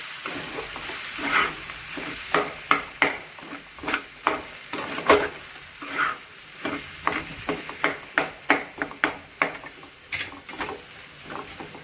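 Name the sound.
yellow potato sabzi frying and being stirred in a pan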